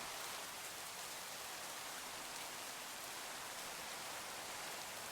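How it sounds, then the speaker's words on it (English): Steady rain in a video game pours continuously, a dense even hiss with no other sounds standing out. "Just hope it keeps raining for a while."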